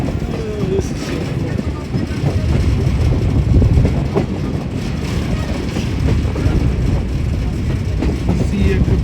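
Verde Canyon Railroad train rolling along the tracks, a continuous loud rumble with faint wheel clatter heard from aboard, while voices talk over it.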